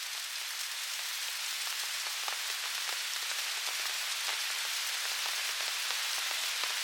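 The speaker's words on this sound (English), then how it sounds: "It's okay, Suki, it's just rain." Steady, dense rain pours down during a thunderstorm at a solo wild camp, a continuous close hiss of drops pattering on a surface with no pauses and no voices.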